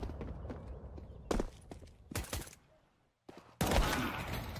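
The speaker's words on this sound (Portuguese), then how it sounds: "Olha o tiro que ele deu no cara que tava esperando ele" Gunfire in a Counter-Strike esports match between Furia and Nouns: several sharp, loud broadband bursts in short clusters, separated by brief quieter gaps, over low game ambience.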